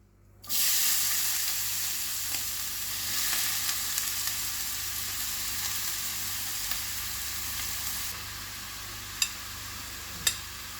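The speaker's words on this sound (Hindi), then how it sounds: "तो गाजर को फ्राई करने के लिए मैं पैन में लूंगी 2 टेबलस्पून घी।" Carrots sizzle steadily in two tablespoons of hot ghee in a kadhai while gajar ka halwa is cooked. The frying hiss is continuous and fairly loud, with a couple of sharp spatter pops near the end and no talking.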